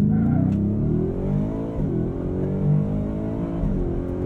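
Ford F-150 Raptor R pickup accelerating hard from a standstill, engine roaring loud and close with rising pitch through the gears and brief dips at the shifts.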